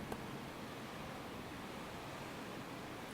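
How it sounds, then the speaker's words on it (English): Steady rushing water of a river flowing between snowy banks in a pine forest, a continuous broadband wash that holds an even level throughout with no other sounds. "The sound of rushing water awakens your senses"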